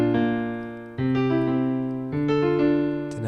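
Piano plays a few basic triad chords in sequence, each struck cleanly and left to ring and decay before the next, close and clear with no voices.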